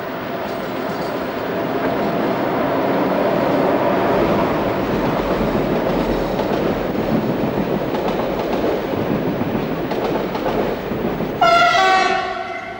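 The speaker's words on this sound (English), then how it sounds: "This is 16739 leaving Longuyon." Locomotive 16739 hauls a train away from Longuyon station, a loud steady rumble and clatter of wheels building and holding, with a sharp horn blast near the end.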